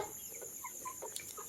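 Farm chickens cluck in short, soft bursts, a few calls scattered over a brief moment against a faint background hum, fairly distant and quiet.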